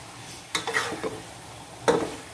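Fried tofu being stirred in oil in a pan, two bursts of scraping and sizzling a second or so apart over a low background, close and without talk.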